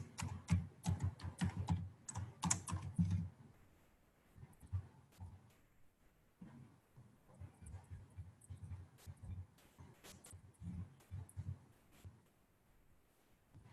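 Quick bursts of typing on a computer keyboard while logging into an account, with close, crisp key clicks coming in clusters and short pauses between them.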